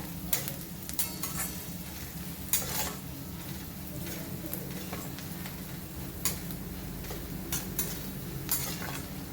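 Onions and green chili fry in a pan for kande poha as turmeric powder is stirred in, giving a soft continuous sizzle broken by scattered spoon clicks and scrapes against the pan, with no talk.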